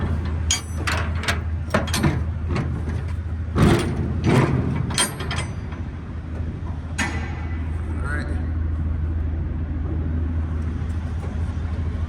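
The lock of an intermodal container on a truck being worked open: a few seconds of metallic clanks, ratcheting and scraping over a steady low engine hum, then only the hum continues.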